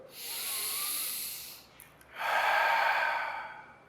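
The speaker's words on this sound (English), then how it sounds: "feel your ribs expand when you inhale" Slow, deep breathing during children's chair yoga, one long airy inhale followed by a longer exhale, close and fairly quiet, with no talking.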